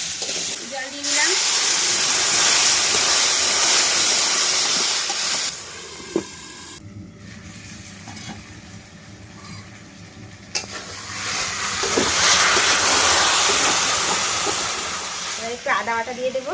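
Loud sizzling and steaming hiss from a pot of fish curry right after water is added, continuous and close, easing briefly midway before rising again.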